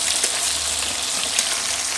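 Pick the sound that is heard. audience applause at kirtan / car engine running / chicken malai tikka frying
chicken malai tikka frying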